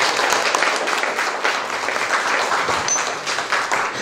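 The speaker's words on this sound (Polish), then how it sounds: "Naprawdę wszystkim autorom należą się brawa" Audience applause, a dense steady patter of many hands clapping at moderate volume for a few seconds.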